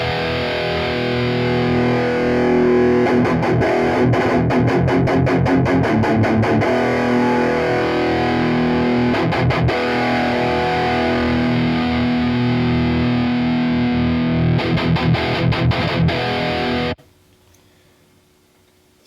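Distorted electric guitar runs through a Torpedo speaker simulator while the virtual mic is moved, giving a loud, dense wall of crunchy chords with bursts of choppy strumming, then a sudden cut to near silence at the end.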